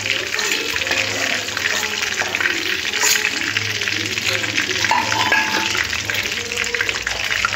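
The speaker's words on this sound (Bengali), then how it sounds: "বাকি যে চিকেনগুলো আছে একইভাবে ভাজতে হবে।" Chicken pieces fry in hot oil with a steady broadband sizzle throughout, close and fairly loud, with occasional stirring clinks and faint background murmur.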